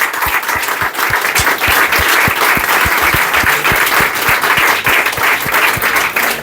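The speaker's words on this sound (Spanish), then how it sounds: "Un aplauso, por favor." A large audience at a lecture event claps steadily and loudly, a dense sustained applause with individual claps popping through the continuous roar.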